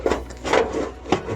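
An exhaust pipe on a VW Golf GTi 16v slides over metal, giving scraping, rubbing strokes in short bursts with brief pauses between them.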